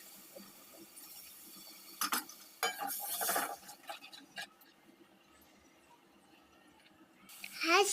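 Washed rice and lentils are poured into a pot of spiced khichuri base, with scattered clinks of utensils against the metal pot and soft stirring, followed by a brief sizzle.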